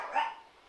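Hunting hounds kept indoors as pets give a single short, muffled bark from a little distance, brief and moderately loud.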